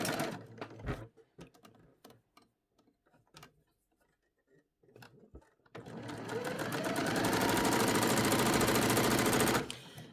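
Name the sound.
sewing machine stitching organza fabric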